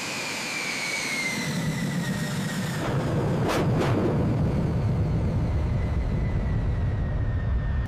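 A Mitsubishi Mirage jet engine runs with a loud, steady roar, a sustained whine riding on top and a brief surge midway.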